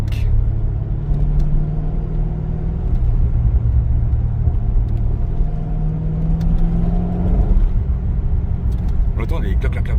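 A Chevrolet Corvette C5 with a V8 drives on a road, its deep steady engine rumble rising and falling through gear changes, with a few brief exhaust pops near the end, under people talking inside the car.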